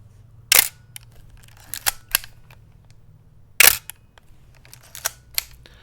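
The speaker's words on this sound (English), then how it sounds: "Very interesting shutter sound." A Nikon F3 film camera fires its shutter twice, with sharp, close clicks about three seconds apart, each followed by smaller ticks and clicks of the film wind lever. A low steady hum sits underneath throughout.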